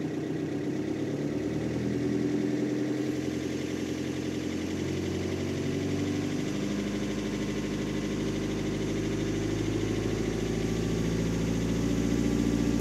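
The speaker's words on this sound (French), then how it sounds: "Là, j'enfonce la pédale depuis tout à l'heure." A car engine held with the accelerator pedal floored gives a continuous droning roar that thickens into a heavier low rumble partway through, steady and close with no voices.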